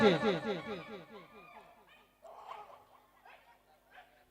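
A dog barks in a fast, close string of yappy barks that fade out over a couple of seconds, followed by faint voices talking in the background.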